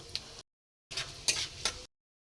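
Panch phoron spices crackling in hot mustard oil in a wok for a sweet raw mango pickle, heard as two short bursts of close sizzling and spitting separated by silence.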